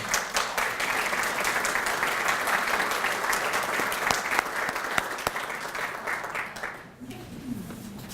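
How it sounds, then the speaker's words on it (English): Sustained, dense applause from an audience at a volunteer salute event honoring volunteers, loud and even for about seven seconds before fading, with a voice briefly audible as it dies down. "take a well-deserved round of applause"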